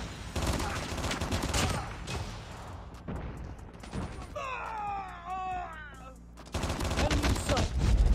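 Chicom gunfire in Call of Duty Mobile, loud dense bursts of rapid shots filling most of the stretch, broken by a short quieter lull with ringing tonal game effects before the firing returns.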